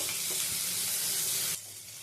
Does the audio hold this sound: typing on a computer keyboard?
no